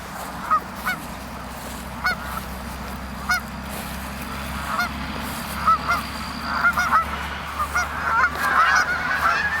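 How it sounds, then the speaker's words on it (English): A flock of wild Canada geese honks repeatedly, scattered calls growing busier and louder toward the end over a low outdoor rumble. "What we've got here is a flock of wild Canada geese."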